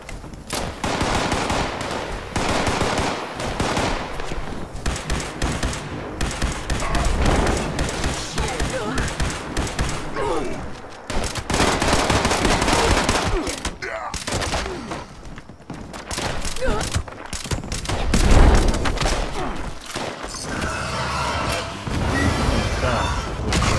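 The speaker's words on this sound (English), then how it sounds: "They're shooting at me." Enemies shooting in Fallout 76, a dense, loud stream of rapid gunfire with machine-gun bursts and scattered single shots running almost nonstop, with a heavy thump partway through and a voice talking over the fighting.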